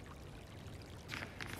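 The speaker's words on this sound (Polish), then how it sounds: "A nie, lewym napełniamy manierkę" Water pours in a video game as a canteen is filled, a faint, quiet stream over a steady background, growing into brief louder splashing bursts toward the end.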